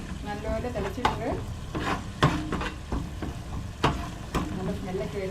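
A tomato and rice mixture bubbles in a pan while a spoon stirs and scrapes through it, producing a steady simmering hiss with intermittent clacks and scrapes, close and moderately loud.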